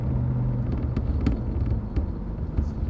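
A 2003 Ford SVT Cobra 10th Anniversary engine with its supercharger, a low steady rumble from inside the car during a test drive, with a continuous drone and some faint clicks, no voices.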